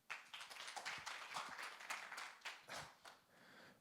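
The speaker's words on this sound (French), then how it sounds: "Je vais vous demander d'applaudir" An audience at a French business conference claps for about four seconds, a dense, moderately loud patter of many hands with slight swells and dips, no voices over it.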